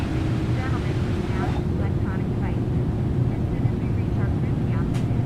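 Steady, loud jet engine roar of a Kuro 787 airliner accelerating in its climb in Microsoft Flight Simulator, a broad continuous drone with a low hum underneath and faint higher chirps drifting over it.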